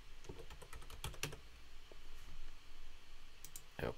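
Keys on a computer keyboard are typed in short bursts of quiet clicks, with pauses between and a final quick cluster, heard close and faint.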